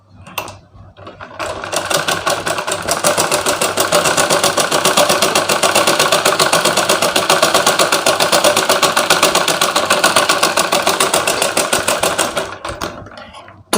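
A sewing machine runs steadily for about eleven seconds, stitching the front lining of a blouse, a loud rapid whirring rattle that starts, holds an even pace and stops, with no talk over it.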